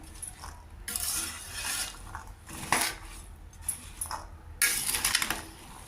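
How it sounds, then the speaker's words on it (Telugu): Boiled chickpeas with tempering are stirred in a pan over a low flame, with repeated scraping and metal spoon clinks over a faint, soft sizzle, no speech. "కొద్దిగా లో ఫ్లేమ్లో పెట్టుకుని ఇది ఇలా కొద్దిగా ఫ్రై చేసుకోవాలి శనగలన్నీను"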